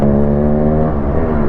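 A Yamaha RX 135 motorcycle in Bengaluru traffic gives a loud, close, steady engine and exhaust drone with a thick buzzing tone for a moment, with no voices.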